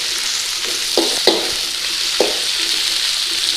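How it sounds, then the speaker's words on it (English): Okra being stir-fried in a pan for bhindi masala, a steady sizzle with a few sharp clatters of the spoon or pan as it is stirred, close and moderately loud. "going to stir fry our okra fairly quickly, put a little bit of colour on and cook out that sliminess"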